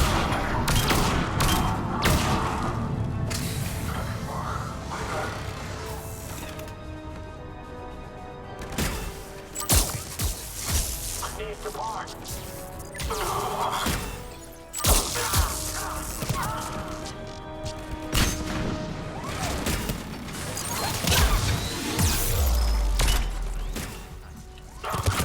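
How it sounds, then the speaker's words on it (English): Turret gunfire in the shooter game Mass Effect 3, a long barrage of rapid shots with booms and impacts, loud and continuous across the whole stretch. "A turret."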